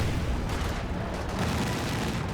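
A StuG assault gun fires in Company of Heroes 2, heard within a dense, continuous battle roar of booms and rumbling, with no single shot standing clearly apart.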